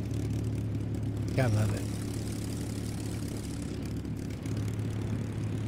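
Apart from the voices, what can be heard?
Spitfire Mk-5b aircraft engine in flight simulator video game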